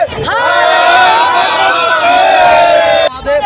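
Loud crowd at a tableau procession in Jharkhand, many voices chanting a devotional slogan in unison, sustained and dense for about three seconds before cutting off abruptly.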